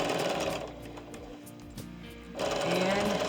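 A sewing machine runs in quick bursts, stitching fabric pieces chain-style for quilt medallions, its rapid mechanical whir close and loud, easing briefly in the middle before picking back up.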